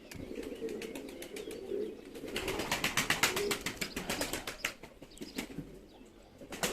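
Young Perdeli pigeons take off and fly together in a dense flurry of wing flaps, building to a loud burst of clapping wingbeats and then thinning out, with faint cooing underneath.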